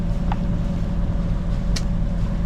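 Steady low engine drone of a sailboat motoring with a small engine assist at about 4.5 to 5 knots in 8 knots of wind off the Mediterranean coast, a constant hum with faint water wash and no talk.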